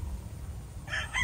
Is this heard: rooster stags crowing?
yes